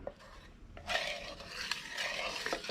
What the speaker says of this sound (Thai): เราก็คนให้ส่วนประกอบละลายเลยนะครับ